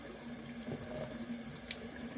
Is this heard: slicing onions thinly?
no